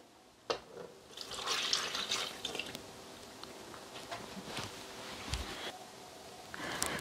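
Milk poured into a Thermomix mixing bowl, a soft close liquid gush starting after a small knock and continuing for several seconds, with a few light handling sounds and no talk.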